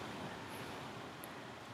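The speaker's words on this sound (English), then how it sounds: "the wind kicked up" Steady broadband wind rushing past, loud and continuous, with a roaring low rumble like gusts buffeting a microphone outdoors.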